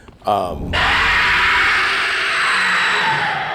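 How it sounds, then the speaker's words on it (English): A creature in the Dark Souls III video game lets out a sudden, loud, sustained shriek that fills the space and slowly fades, preceded by a short groan. "Every so often things scream and terrify you."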